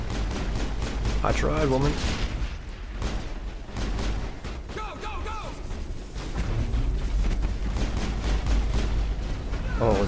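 Gunfire from a firefight in the video game Mass Effect, dense and continuous through the whole stretch, with bursts layered over music and game effects while voices speak over the shooting.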